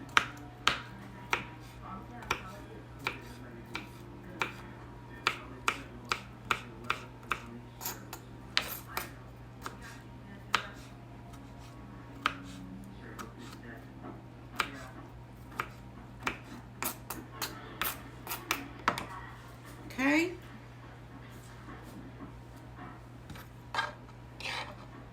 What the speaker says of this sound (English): I'm just going to cut these up too